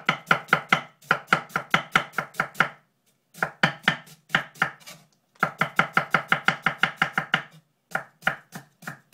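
A kitchen knife slices a cabbage into strips on a cutting board, sharp close chopping strokes coming in quick rhythmic runs separated by short pauses, with no voices.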